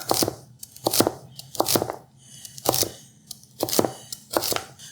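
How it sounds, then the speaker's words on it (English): A knife cutting vegetables on the angle for a stir fry, heard as loud, close, crisp chops landing on a board in an irregular rhythm, with short pauses between cuts and no talk. "So it's just cutting like this on an angle."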